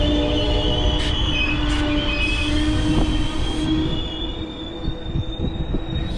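A train passing on a railroad mainline: steady, loud rolling rumble with high, sustained wheel squeal and a few clanks and knocks, heard close without talk.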